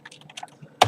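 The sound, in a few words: typing code on a computer keyboard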